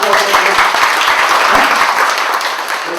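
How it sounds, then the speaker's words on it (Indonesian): An audience breaks into loud, dense applause, many hands clapping close together in a steady wash that eases slightly toward the end. "Tepuk tangan."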